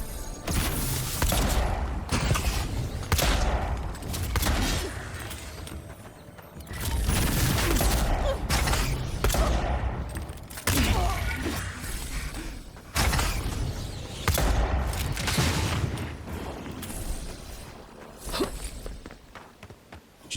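Enemies in the video game Avowed fire on the player amid dense combat noise: repeated impacts, booms and clattering mechanisms in loud bursts with brief lulls, continuing throughout.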